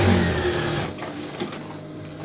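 A sewing machine stitches fabric for a hijab face mask in a quick buzzing run that slows and stops partway, followed by softer handling noises up close.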